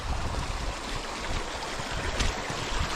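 Rain falls steadily on a rural farm plot planted with cucumbers, a dense, even wash of hiss with scattered louder patters and no voices.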